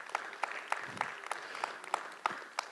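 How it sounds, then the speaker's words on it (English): Scattered, sparse clapping from a small audience at a November 2018 talk event, honoring its sponsors; a few distinct hand claps ring out at a steady, uneven rhythm, fairly quiet and thin. "Let's give them a round of applause."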